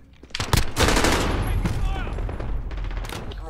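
Dense burst of video game gunfire in Call of Duty Modern Warfare, fired at a building, a loud rapid volley of overlapping shots with a rumbling, noisy tail, close and continuous for a few seconds.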